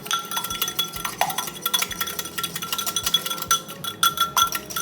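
A mini whisk clinks rapidly and rhythmically against the side of a bowl while beating, producing close, bright metallic taps in quick succession.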